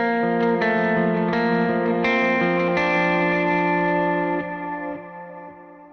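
Electric guitar through the BBD Dotted delay preset on a Mercury X, sounding as sustained, shimmering chords with echoing repeats that gradually fade at the end.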